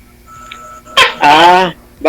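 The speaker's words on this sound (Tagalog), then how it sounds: "Grabe yung tunog ng tuko ah." A tokay gecko gives loud, nearby calls that sound like a barking dog: a sharp short bark, then a longer, rasping, harmonic croak, and another call starting at the end.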